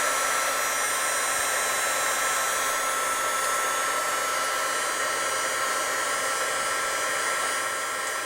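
A heat gun blows a loud, steady roar of hot air onto a metal piece for powder coating, close and constant with no talking.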